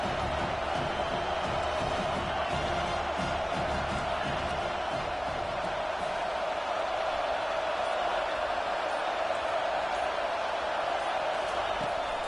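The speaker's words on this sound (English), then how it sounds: "Decibels rising as the crowd gets behind this defense on third down." A stadium crowd roars steadily during a football game as the defense faces third down, a dense, sustained wall of cheering and noise with a commentator's voice faintly under it.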